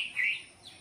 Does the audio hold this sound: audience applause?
no